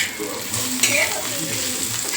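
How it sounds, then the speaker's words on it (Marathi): Garlic, cumin and green chillies roast together on a hot griddle, giving a soft continuous sizzle with occasional stirring scrapes close by. "लसूण, जिरं, हिरवी मिरची हे आता आपण हे एकत्र असं थोडं भाजून घेऊया"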